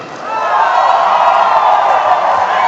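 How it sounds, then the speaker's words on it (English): A badminton arena crowd at the Asian Championship 2020 final roars and cheers loudly for the Indonesian doubles pair, a sustained swelling wall of voices and whoops. "We really heard how loud those cheers were."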